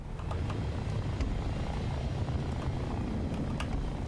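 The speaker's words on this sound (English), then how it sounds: "I'll just show you what this truck, the Florak Rad, sounds like in the game" A military truck engine in the video game War Thunder drones steadily and low, humming continuously with a flat, fan-like rumble and occasional faint clicks, no voices.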